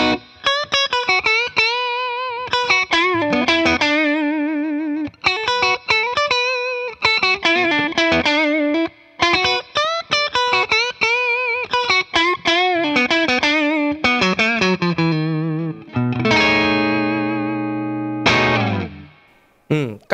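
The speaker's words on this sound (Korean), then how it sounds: "미들 픽업에 텍사스 스페셜이 달려 있다 보니까 팬더 느낌이 팍 나긴 하는데" A Fender Japan Michiya Haruhata signature Stratocaster with a poly finish plays through its middle Texas Special pickup, a sustained distorted lead with chorus and echo effects that runs in quick phrases and bends, loud and alone.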